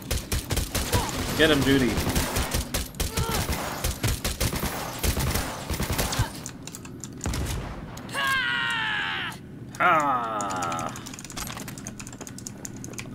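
Rapid bursts of automatic gunfire in a Cyberpunk 2077 firefight, dense and loud for the first half, then sparser shots and electronic effects, with a voice speaking briefly over the action.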